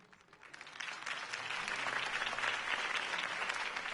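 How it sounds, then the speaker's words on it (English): Crowd applause at a political campaign rally in the video game Batman: The Telltale Series, starting moderately and swelling into sustained, fairly distant clapping with no talk over it. "could have heard that applause"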